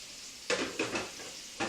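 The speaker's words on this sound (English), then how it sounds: "So we got our onions and our garlic going in the pan." Onions and garlic sizzle in a pan, a quiet steady hiss broken by a few sharp bursts as they are stirred.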